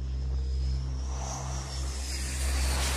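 Steady, loud roar of jet engines on a US Navy aircraft carrier flight deck during catapult launches, a continuous dense drone with a rising whine and no voices.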